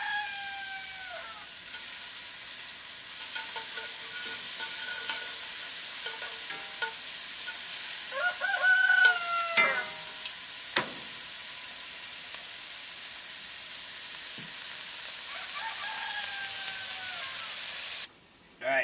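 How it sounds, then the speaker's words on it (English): Onions sauté in a pot for a cottontail rabbit dish with a soft, steady sizzle and hiss. A few faint clinks and scrapes sound over a low background, and a quiet voice is heard briefly. "So you're just gonna saute the onions until they're just translucent."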